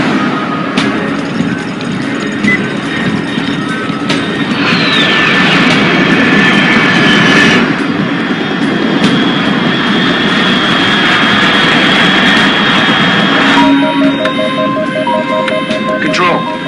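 Jet aircraft engine roar in the Metal Gear Solid 3 remake, a steady loud drone lasting throughout with a rising whine midway, under game music and radio-style talk.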